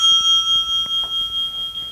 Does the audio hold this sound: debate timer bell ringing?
yes